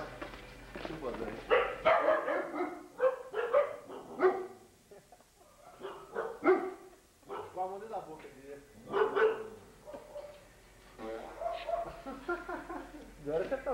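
Dogs bark in a loose, uneven run of repeated barks, moderately close, interleaved with people talking throughout in a busy indoor setting at a 1992 recording session.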